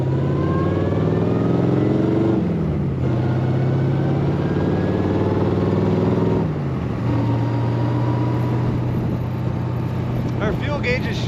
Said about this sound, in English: as you can hear, this car has a great sound